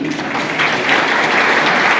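An audience applauds, a dense wash of clapping that holds steady at moderate loudness and swells slightly partway through the short burst.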